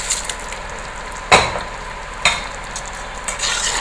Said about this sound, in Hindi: मैं इसमें ये चावल ऐड कर रही हूँ